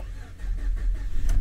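An engine turns over and catches, then idles with a low, rumbling throb that grows slightly louder, nearby and alone, in a truck bought for a Bomber Fab trail chassis build.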